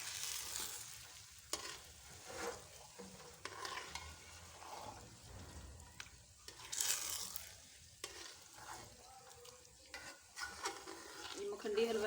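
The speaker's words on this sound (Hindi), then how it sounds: "अभी मैं अच्छे से मिक्स कर लूँगी इसे।" A spoon stirs makhani halwa in a pan with a soft sizzle of frying underneath, scraping and mixing steadily at close range, with a voice talking quietly in places.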